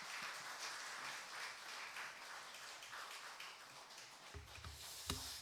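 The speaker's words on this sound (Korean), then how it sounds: "우리 기흥 지구촌교회 따뜻한 박수로 환영하도록" A church congregation at a Friday prayer meeting applauds to welcome a guest pastor, giving steady, fairly distant clapping that continues throughout with a few louder thumps near the end.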